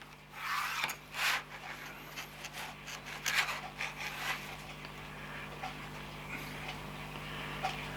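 A pencil draws guide lines on wood while building a chalk crushing silo, with a few short scratchy strokes followed by quieter rubbing and faint scraping close to the microphone.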